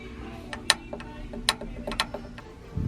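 Bolts being removed from a car's gear shifter on a Eunos, heard as a short run of faint, scattered metallic ratchet clicks and ticks, close up and with no talk.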